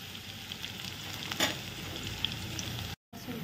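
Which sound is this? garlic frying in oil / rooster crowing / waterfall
garlic frying in oil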